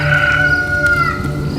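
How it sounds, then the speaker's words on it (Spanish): Rooster crowing as a sound effect, one loud, close, drawn-out cock-a-doodle-doo call heard clearly on its own with some background murmur. "antes que el gallo cante, tú ya me has negado 3 veces"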